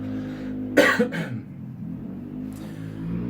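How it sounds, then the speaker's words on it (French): Two quick, close coughs in a row, followed by a low engine hum in the background. "Excusez-moi, je tousse un peu."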